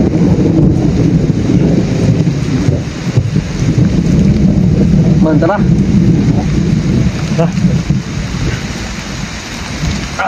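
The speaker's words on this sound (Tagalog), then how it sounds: "Lakas na yung ulan." Heavy rain pours down steadily at an outdoor camp, with low rumbles of thunder rolling beneath it and brief voices calling out in between.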